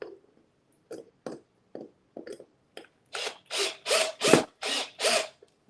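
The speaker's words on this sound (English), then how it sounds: "I'm going to screw them down" A screwdriver drives screws to fasten wooden leaves onto rustic scrap-wood pumpkins in a workshop: a few sparse ratcheting clicks at first, then a run of longer, louder grinding turns close by, without speech.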